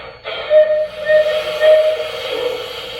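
A steam whistle sounds from the Zimo sound decoder of an LGB Mogul model locomotive, beginning as a hissing blast that settles into a steady, breathy whistle held for a few seconds, close and fairly loud, with no talking.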